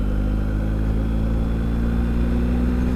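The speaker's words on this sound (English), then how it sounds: "Okay, so now I'll come down gears, 6th, 5th, 4th, 3rd." A BMW R1250GS motorcycle engine downshifting through the gears, heard as a close, steady mid-pitched engine drone with low rumbling harmonics and no talking.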